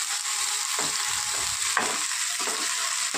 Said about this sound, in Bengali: আদা রসুন বাটাটা দিয়ে একটু নেড়ে চেড়ে নেব